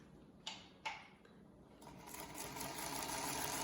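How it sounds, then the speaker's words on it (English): A sewing machine stitches fabric up toward a corner, starting with a couple of sharp clicks and then building into a steady rapid whirring run, close and clear, with no talking. "I'm stitching until a couple of stitches before the corner"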